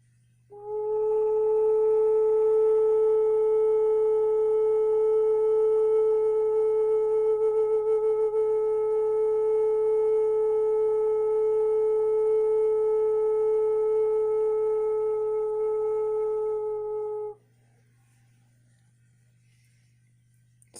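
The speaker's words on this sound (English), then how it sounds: "I'll play you another note. Listen to this note." A single sustained tone rings steadily for about seventeen seconds, pure and smooth with a few soft overtones over a low hum, then cuts off, leaving only faint background hum.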